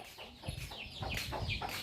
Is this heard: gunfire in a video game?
no